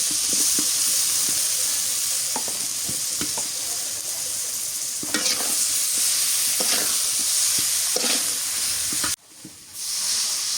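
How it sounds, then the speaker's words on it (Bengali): Turmeric powder mixed with oil sizzles and hisses steadily in a pan while cooking khichuri, with intermittent stirring scrapes over the continuous fry, and the sizzle briefly drops near the end. "হলুদের গুঁড়া একটু তেল গুলে দিয়ে দিই।"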